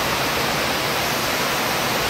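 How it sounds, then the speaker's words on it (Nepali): Heavy rain pouring down steadily outdoors, a dense, even broadband rush with no breaks, close and fairly loud, with no voices. "यस्तो प्रकारको छ, पानी आउँदैछ हेर्न सक्नुहुन्छ होला"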